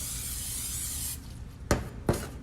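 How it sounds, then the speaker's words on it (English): Vegetable cooking spray hisses into a bowl in one continuous close burst lasting about a second, followed by two short scraping or rubbing sounds. "I like to use like just a vegetable spray in the bowl"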